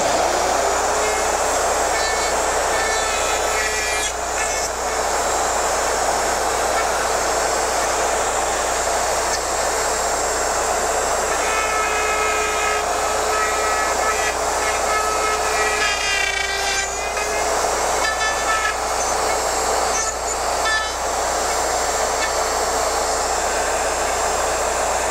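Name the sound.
router cutting dovetails on a Porter Cable Omnijig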